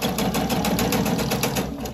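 A sewing machine stitches a quilted oven mitt strip, its needle pounding in a fast, even rhythm with a steady mechanical whir, loud and close with no talk.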